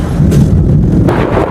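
Loud thunder during a heavy rainstorm, a deep, heavy rumble that booms close and strong for over a second.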